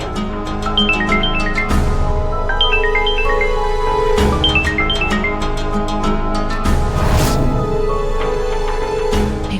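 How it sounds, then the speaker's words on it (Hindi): A melodic phone ringtone plays a repeating pattern of short descending chimes for an incoming call, sounding steadily at moderate loudness over a sustained musical backdrop in a household scene. "मेघा जी का फोन आ रहा है।"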